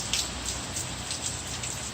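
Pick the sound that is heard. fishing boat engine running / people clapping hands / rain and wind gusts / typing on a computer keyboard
rain and wind gusts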